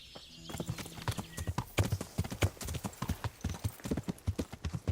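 Horse hooves clip-clopping in the video game Kingdom Come: Deliverance, a close, steady rhythm of sharp hoof strikes at walking pace, with a faint whinny early on.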